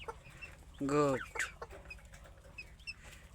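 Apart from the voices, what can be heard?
hen clucking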